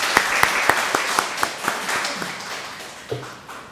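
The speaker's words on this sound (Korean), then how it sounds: "우리 호산나 성가대에게 한 번 더 박수해 주시면 감사하겠습니다." A church congregation claps for the Hosanna choir at a Thanksgiving Sunday service, a thin scattering of distinct hand claps that thins out and fades over a few seconds, with a couple of late claps.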